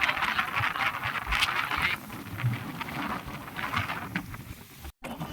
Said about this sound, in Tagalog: Malakas talaga ang hanging amihan ngayon